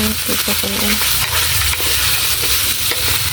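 Boiled chicken feet drop into a hot pan for Filipino chicken feet adobo with Sprite, setting off a loud, steady sizzle and crackle with some stirring clatter, no talking.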